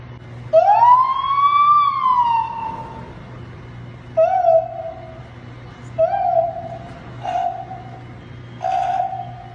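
A police patrol car siren sounds in short bursts: one long rising and falling wail followed by several quick yelps, loud and close over a low idling hum.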